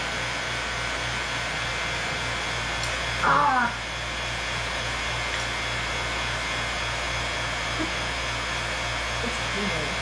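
A vacuum pump hums and whines steadily and close by throughout, with a brief exclamation from a voice partway through.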